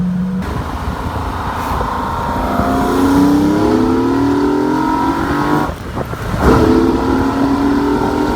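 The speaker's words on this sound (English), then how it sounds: "let you hear a V12 Jag that sounds like a V12 Ferrari Daytona." A 1972 Jaguar E-Type Series III roadster's V12 engine roars and climbs in pitch under hard acceleration, briefly dipping on a gear change before surging again, loud and close.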